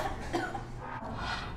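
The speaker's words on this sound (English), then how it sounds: "cough," A single person coughs in a muffled, close cough over a steady low background hum, with no other sound.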